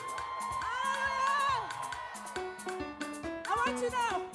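A youth church congregation screams and cheers at a worship service, shrill whoops and shouts rising in waves under a loud preacher's voice.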